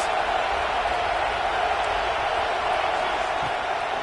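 A stadium crowd roars for the defense on a big third down at a Florida State versus Pittsburgh college football game, a steady dense wall of cheering noise that holds at an even level throughout.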